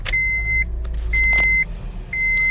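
A 2006 Honda CR-V starts up and settles into a low, steady idle up close, while three short dashboard chimes ring out at intervals.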